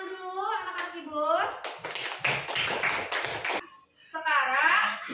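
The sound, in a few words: schoolchildren clapping hands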